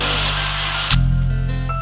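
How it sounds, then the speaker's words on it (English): A power drill whirs steadily, then its pitch drops and the tone shifts as the bit bites into a metal roll bar, loud and close. "I'm gonna go ahead and drill the hole into my roll bar"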